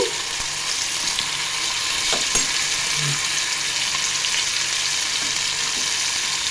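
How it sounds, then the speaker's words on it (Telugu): Constant crackling sizzle as ground okra chutney is added to a hot-oil tempering, with a few soft clinks and stirring scrapes; no talking. "ఇప్పుడు మనం మిక్సీ పట్టుకున్న చట్నీ వేసుకుందాము."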